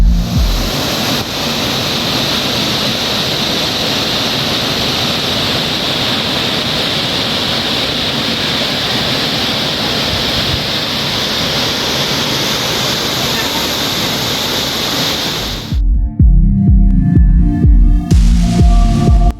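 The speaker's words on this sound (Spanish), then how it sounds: "hasta llegar a Cascada Velo de Novia" Cascada Velo de Novia, a 120-metre waterfall in Chiapas, roars as a loud, steady broadband rush of falling water for about sixteen seconds before cutting abruptly to other sound.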